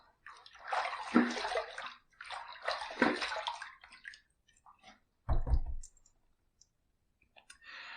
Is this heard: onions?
no